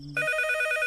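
A landline telephone rings, a single bright electronic trill that starts abruptly after a faint low tone and holds steady and fairly loud for the rest of the moment.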